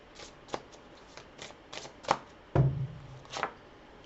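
Tarot cards are shuffled by hand in a series of crisp, brief riffles and taps, with a louder bridge-like flutter near the end, close and quiet with no talk.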